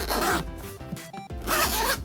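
A zipper on a Razer Opus headphones case is pulled open in two quick rasping strokes with a pause between, close and crisp with no talk.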